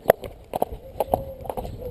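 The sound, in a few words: horse hooves moving during training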